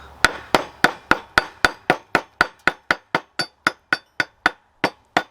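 A hammer chipping welding slag off a weld bead, about eighteen sharp metallic taps in an even, quick rhythm that slightly slows and softens, loud and close with no voices.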